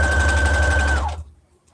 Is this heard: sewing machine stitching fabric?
yes